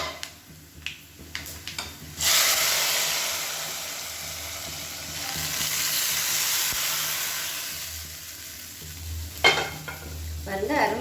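Browned fried-onion tempering is poured into kohlrabi sambar, a sudden loud hissing sizzle that swells and slowly fades, framed by clinks and scrapes of the pan and ladle, with no talking.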